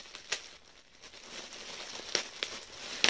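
Plastic package holding a girl's butterfly costume being opened, giving soft crinkles and a few sharper crackles close by, with quiet pauses between them.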